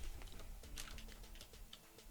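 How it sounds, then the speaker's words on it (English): Undertale-style text box typing sound effect built in GDevelop, a quick run of soft, faint blips and clicks ticking along in a light, irregular patter, heard alone. "I heard the typing sound."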